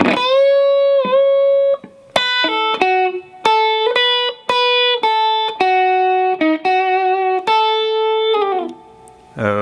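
An electric guitar plays the solo lick from a song very slowly, with clean separate notes, a bend and a slide, sounding clearly and alone.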